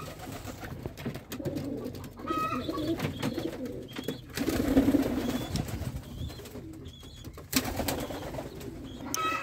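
Young pigeon squabs sick with pox, cooing in low, soft bursts that repeat through the stretch, with a louder swell in the middle amid some rustling and handling noise.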